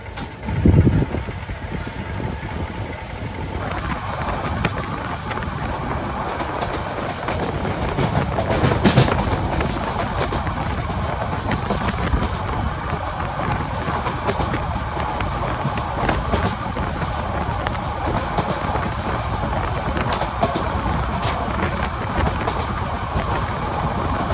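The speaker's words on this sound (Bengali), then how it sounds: "বন্ধুরা এই মুহূর্তে আমাদের ট্রেন থ্রুপাস করে বেরিয়ে যাচ্ছে রামু স্টেশন।" Parjotak Express passenger train running through Ramu station in the early morning, heard from on board as a steady, loud rumble of engine and wheels that carries on without a break, with no talking.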